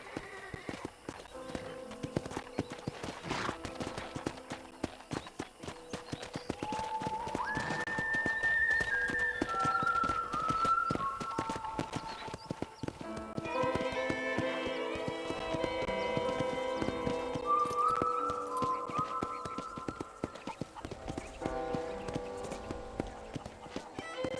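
Steady clip-clop of horse hooves at a walking pace in the video game Red Dead Redemption, continuing under a swelling musical score with a few brief voice sounds.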